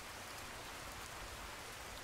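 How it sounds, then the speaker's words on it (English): Steady rain pours in a video game, a dense, even hiss of drops on surfaces that holds loud and unbroken throughout with no voices. "This rain's pretty loud."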